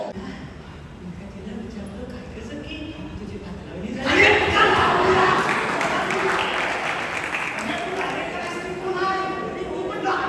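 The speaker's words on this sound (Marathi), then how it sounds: "या कलाकारासाठी पुन्हा एकदा जोरदार टाळ्या वाजवूया" An audience bursts into loud, sustained applause for an artist at a felicitation event in Virar, starting partway through after a quieter stretch of murmuring and continuing steadily to the end.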